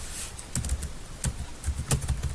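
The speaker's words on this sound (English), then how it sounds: "let's press down key from your keyboard" Keys clack on a computer keyboard in a few quick clusters of taps, close and moderately quiet, with short pauses between bursts.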